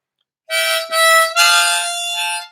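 A diatonic harmonica sounds a short, bright phrase of three reedy notes, loud and close, starting after a moment of silence and running unaccompanied.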